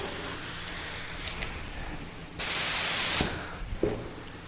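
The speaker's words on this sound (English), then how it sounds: "So spraying a dye or stain can be a really good thing." A spray gun with its fluid turned low sprays waterborne dye onto wood, a steady broadband hiss bursting on for about a second over a quiet workshop background, followed by brief thumps.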